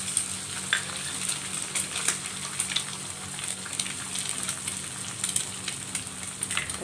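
Eggs sizzle steadily in a hot pan while seblak seafood noodles are made, a dense crackling fry with scattered pops, close and even, with no voices.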